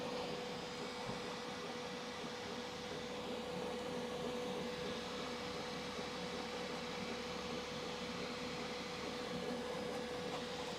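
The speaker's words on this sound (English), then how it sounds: "So this is my new 3D printer." A multicolor 3D printer runs with a steady mechanical whir and a constant tonal hum, unbroken and moderately loud throughout, with no talking.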